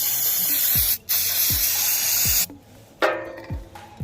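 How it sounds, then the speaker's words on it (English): Close, loud hissing bursts of aerosol cleaner sprayed onto the alternator area of a 2008 Hyundai Entourage engine, several long blasts separated by short pauses, with faint low thumps underneath. "I'm about to spray all in there."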